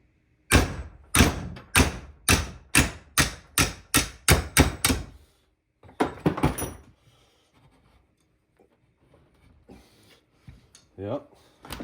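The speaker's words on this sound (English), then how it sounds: "I'm back with 2 hammers" Steady hammer blows on metal on an old snowblower, about a dozen evenly spaced strikes, then a few scattered knocks and clatter with quiet gaps.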